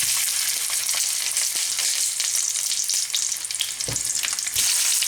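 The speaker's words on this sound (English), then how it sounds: "I have some olive oil that's been heated up here. Now we're going to put in these pork chops." Pork chops fry on high heat in hot olive oil in a frying pan, a loud, continuous, crackling sizzle with bursts of popping, heard alone.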